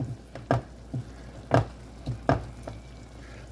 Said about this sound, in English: I've also got a vegetable cooking back here